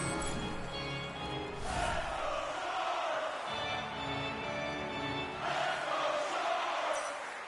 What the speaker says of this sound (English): Crowd trying to re-energize this Sharks team that have been outplayed